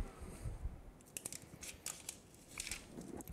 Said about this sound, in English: So, weeding the vinyl shield first.